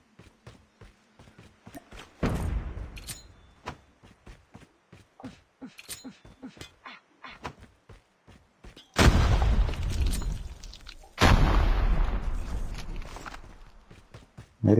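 Sticky grenades explode in Call of Duty Mobile Battle Royale: three heavy, booming blasts spaced several seconds apart, each with a long rumbling tail, between quick ticking footsteps.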